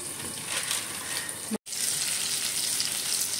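Stuffed pomfret fish frying in a covered pan, a steady close sizzle broken by a brief instant of silence before carrying on just as loud.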